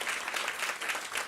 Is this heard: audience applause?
yes